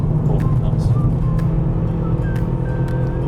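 A racing car driving on a track, its engine droning steadily with a gear shift upward; the motor hums near and loud beneath an instructor's talking.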